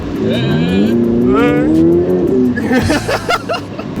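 A Ferrari 488 Pista Piloti's engine climbs loudly through the revs from inside the car, its tone rising and then falling off. A passenger shouts over the engine.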